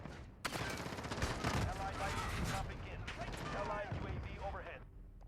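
Rapid bursts of gunfire in the Modern Warfare beta video game crackle in dense, repeated volleys, with loud shots clustered at the start and more sporadic firing later, and some faint voices underneath.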